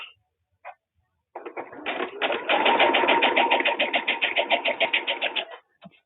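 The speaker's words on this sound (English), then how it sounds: "I'm probably going to sew these up in threes" Home sewing machine stitching fabric, a close, rapid mechanical chatter that starts in short bursts, runs steadily for several seconds, then stops abruptly.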